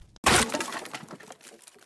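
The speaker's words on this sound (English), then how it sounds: "there was an explosion of sound and the shattering of wood" A sudden loud crash with a sharp cracking burst as a wooden front door is burst open, followed by a short scatter of debris settling, close and forceful.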